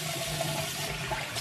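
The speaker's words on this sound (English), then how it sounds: "Then, I will rinse it." Running water rinsing sugar facial scrub off a face, a steady close splashing stream from a tap that continues without pause for a second and a half.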